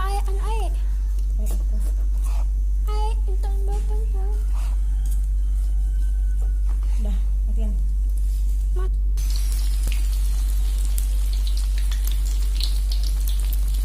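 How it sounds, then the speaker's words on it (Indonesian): Tempeh fries in hot oil, starting with a light crackle under a woman's speech and then, after kitchen clatter, swelling into a loud, bright, continuous sizzle. "aku goreng tempe"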